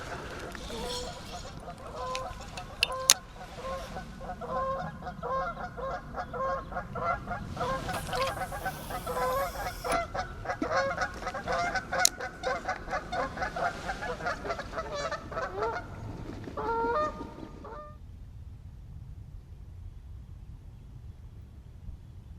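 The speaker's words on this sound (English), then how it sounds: "It won't be that long until the geese are flying south." A flock of geese honks repeatedly at a lake, a dense, steady chorus of overlapping calls that carries on for most of the stretch, then stops abruptly, leaving near silence.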